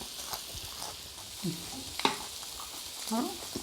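Pork sizzles and crackles on a Thai mookata grill pan in a continuous close frying hiss, with occasional scraping and stirring clinks, and brief quiet voices in the background.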